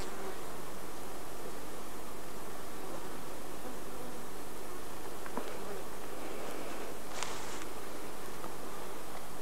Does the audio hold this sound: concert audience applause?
no